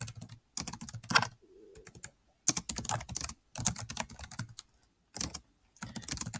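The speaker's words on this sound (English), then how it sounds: "let's go type out our summary." Quick bursts of typing on a computer keyboard, several clattering runs of keystrokes separated by short pauses, close and clear with no voices.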